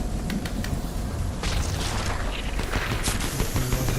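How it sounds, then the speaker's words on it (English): Dense, loud bursts of Fortnite gunfire and booming blasts crackle continuously during a solo tournament match, with sharp impacts standing out against a constant roar of battle noise. "Gunfire, that's not good."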